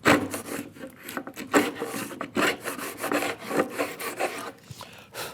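A hand router plane cuts a housing dado groove across wood for a simple bookcase, giving repeated scraping, rasping strokes in an uneven rhythm, close and fairly loud, with no voices.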